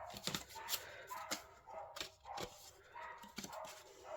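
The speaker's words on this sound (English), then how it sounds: "Gosh, can you hear all them dogs outside?" Several dogs bark outdoors at a moderate distance, a steady run of sharp overlapping barks and yips spread across the whole stretch, with no talk over them.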